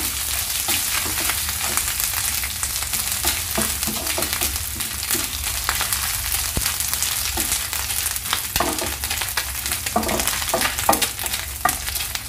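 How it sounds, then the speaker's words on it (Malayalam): Unniyappam batter frying in hot oil until golden, a steady dense crackle and sizzle with scattered pops running throughout, close and even, with no voices. "നല്ല ഗോൾഡൻ കളർ വരുന്നവരെ മൊത്തം ഫ്രൈ ചെയ്തെടുക്കുക"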